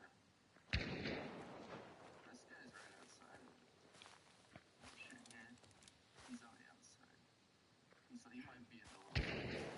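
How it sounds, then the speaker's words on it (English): Gunfire in a video game: a loud, sharp near shot opens, another heavy report lands near the end, and fainter scattered shots and footstep-like taps fill the gap under low talk. "He's shooting a guy in there."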